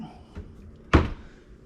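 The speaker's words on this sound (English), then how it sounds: "now I'm going to close this door to be sure it doesn't hit" A pull-out cabinet organizer's cabinet door is shut with a single solid thunk, preceded by a faint knock, in a quiet room.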